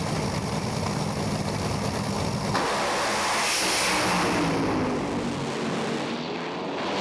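Top Fuel dragster engines roar at a drag strip, a loud, dense, crackling blast that swells and then fades slightly toward the end.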